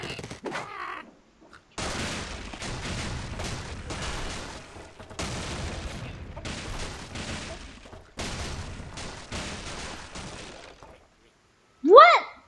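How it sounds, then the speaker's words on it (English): Explosive bursts and crashing destruction from the Angry Birds video game fill several seconds in dense, loud clusters, then a short bird-like squawk rings out near the end. "They survived that big explosion."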